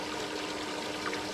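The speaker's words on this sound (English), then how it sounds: "Let me pour this water through it." Water is poured through a net over a bait tank, giving a steady, fairly quiet splashing trickle with no voices.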